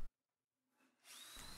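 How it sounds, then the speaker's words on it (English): A power drill bores holes into the wood of a bin cabinet from the inside, starting after a quiet pause and whirring loudly to the end. "From the inside, I drill a few holes going up"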